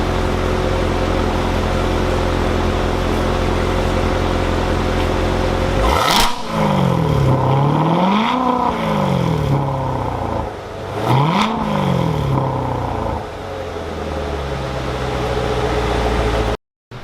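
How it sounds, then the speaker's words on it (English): A sports car engine idles loudly, then revs twice, each rise and fall sweeping up and down through a deep exhaust roar before settling back to idle. "I'll go ahead and rev it for you guys so you can hear this system"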